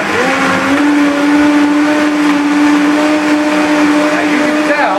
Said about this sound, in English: Once you get to that point, you take it up to high gear and you let it go